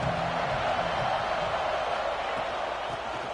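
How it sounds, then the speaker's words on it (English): A football stadium crowd at a Georgia game, a broad, steady roar of many voices swelling from the stands, with a commentator talking over it. "This crowd ready to make its presence known."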